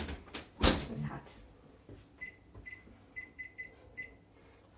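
A kitchen oven timer is set, giving a series of short, thin electronic beeps after a clunk and some handling noise, faint and near.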